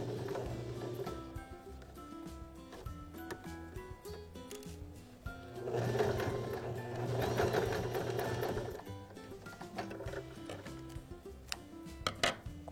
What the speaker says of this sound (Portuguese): Aí você vai passar uma costurinha